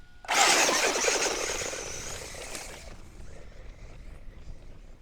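Traxxas Slash 4x4 RC truck launching on sand dunes: a sudden loud high-pitched electric motor whine and spray of sand, fading over a couple of seconds into a faint distant buzz.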